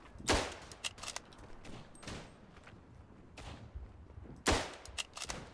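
Gunshots ring out in the World War I shooter game Verdun, several sharp cracks with quicker scattered shots between them, some loud and close, others fainter and farther away.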